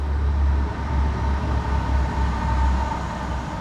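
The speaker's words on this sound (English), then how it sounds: "Guess what that is? A train." Train noise plays from a children's sound book, a steady, loud, low rumble with a faint tonal whine over it, continuous and unbroken.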